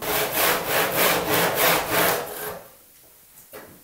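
Handsaw cutting soft coving for a compound mitre at an internal corner, rapid rhythmic back-and-forth strokes, close and loud for about two and a half seconds before stopping into quiet.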